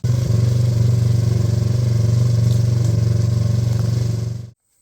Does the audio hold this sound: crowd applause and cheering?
no